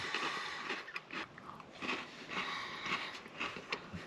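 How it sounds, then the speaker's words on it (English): Someone crunches a chocolate-covered Nutter Butter cookie, the close, crisp bites and chewing crunches repeating in an uneven rhythm, with no talking. "when I bit this, it actually tastes like a crispy crunch."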